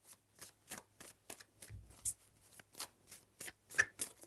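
Tarot cards being shuffled by hand, a series of quick, crisp riffling bursts at a fairly even rhythm, close and quiet, with soft handling thumps between them.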